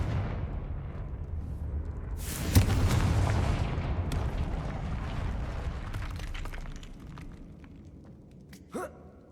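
A Confringo spell in the Hogwarts Legacy video game fires as a sudden loud explosive blast with a broad roaring burst that slowly rumbles away, followed by a brief sharp magical flourish near the end.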